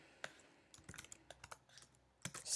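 Code being typed on a computer keyboard in Xcode, with a quiet, uneven run of light key clicks close by and no voice.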